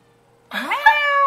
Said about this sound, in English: Is the cat meowing again?